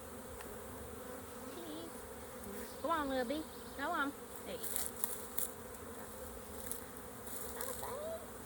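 Honeybees buzzing during a beehive inspection form a close, continuous drone, with louder swells and rising whines as individual bees pass near, while a person speaks briefly.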